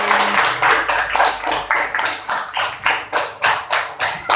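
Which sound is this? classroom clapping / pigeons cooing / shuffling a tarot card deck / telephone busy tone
classroom clapping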